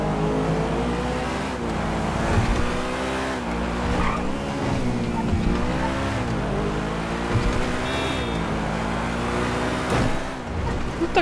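A Bugatti Chiron engine in GTA Online roars steadily and revs up and down, with tire squeal moments; a continuous loud motor drone with no talk.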